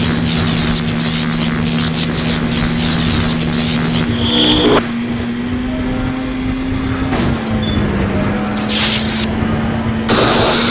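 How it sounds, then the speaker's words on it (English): Snowmobile engine racing with nitro boost in the video game Whiteout, a loud continuous droning whine with shifting pitch, accompanied by game music and effects throughout. "Zeke Rigby driving with nitro power."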